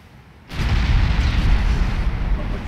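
Naval gunfire with ricocheting shells in the warship game Ultimate Admiral Dreadnoughts: a sudden heavy boom followed by a sustained rumbling roar that stays loud and broad to the end.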